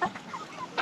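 A chicken gives several short clucks, close and fairly quiet, while being weighed in a bucket on a scale.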